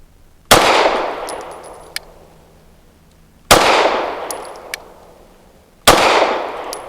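Three loud, close gunshots from a KOR FX-9 firing Federal Premium Syntech 130 grain pistol-caliber-carbine ammunition, each a sharp crack with a ringing decay, spaced a few seconds apart, with faint metallic clinks between shots.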